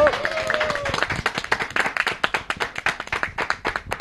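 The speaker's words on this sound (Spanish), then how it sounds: "¡Un aplauso!" Audience applause for a wrestler at a lucha libre event, with steady, fairly close clapping from a crowd of hands that keeps a loose rhythm throughout and carries no talk over it.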